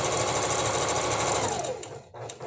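A sewing machine stitching fabric at steady speed, a close rapid whirring clatter that slows and fades near the end as the machine stops.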